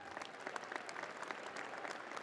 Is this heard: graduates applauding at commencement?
yes